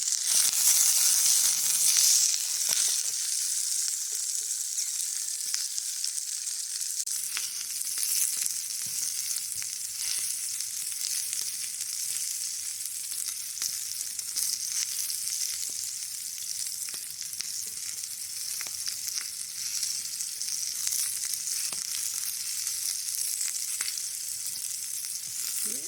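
Tomatoes fry on a hot rock over a bushcraft fire, giving a steady, close sizzling hiss with small crackles and pops throughout, and no voices.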